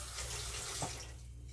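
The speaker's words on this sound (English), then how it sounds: "I'm just going to put some water in it," Water pours from a tap into a cooking pot in a home kitchen, a steady close rushing stream that cuts off near the end, leaving a quieter background.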